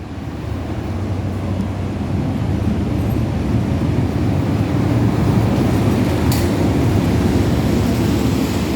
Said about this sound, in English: And here comes the train that I'm going to go to Nongkhai on.